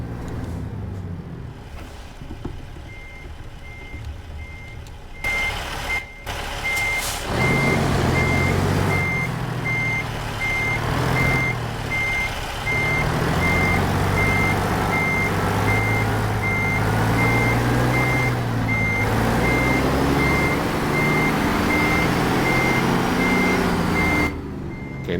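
A truck backing a trailer in American Truck Simulator, with a steady electronic reversing beep repeating at an even pace over a low, continuous diesel engine rumble.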